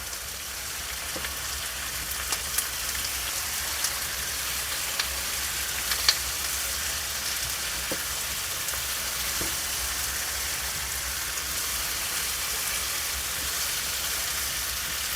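Onion, capsicum and tomato frying in a pan, a steady even sizzle like light rain with a few faint clicks of stirring, no voices.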